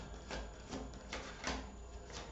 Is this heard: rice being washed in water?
no